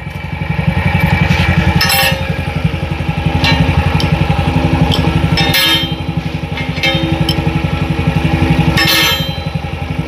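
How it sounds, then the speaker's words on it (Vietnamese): A Honda Cub 81 50cc motorcycle engine runs steadily with a close, loud, rhythmic putter and a sucking sound from the exhaust, punctuated by a few brief metallic clinks. "Cái bô nó hút á, nghe cái tiếng nó hút nghe chít chít chít chít vậy"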